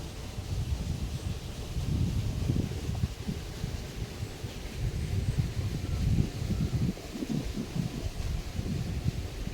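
Wind gusting across open green fields near an airport road in Malappuram, Kerala, a continuous low rumbling buffet against the microphone with rustling surges.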